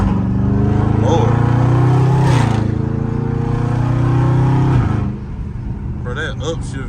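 A catless Dodge Challenger or Charger Scat Pack roars loud and close on a back road, the engine droning steadily at high revs with a sharp shift change before dropping to a rougher, lower rumble, with a voice talking over it.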